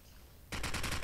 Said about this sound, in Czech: Jakub tady náhodně střílí Garfielda